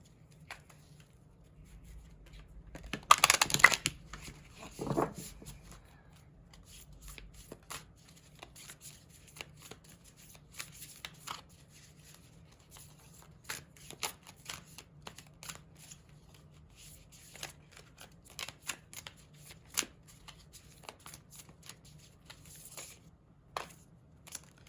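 A White Light Oracle card deck shuffled by hand, with a loud burst of riffling cards early on, then softer, scattered shuffling and tapping of cards over a low steady hum.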